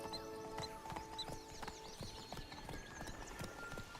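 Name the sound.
horse Roach galloping hooves, The Witcher 3 video game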